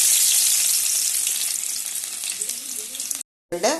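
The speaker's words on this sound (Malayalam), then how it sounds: "കടുക് നല്ലതുപോലെ പൊട്ടിയ ഇനി ഇഞ്ചി വെളുത്തുള്ളി ഇട്ട് കൊടുക്കാം" Ginger and garlic dropped into hot oil with popped mustard seeds, sizzling loudly and steadily in a pan, the hiss gradually thinning before a brief silence and a fresh burst of sizzle at the end.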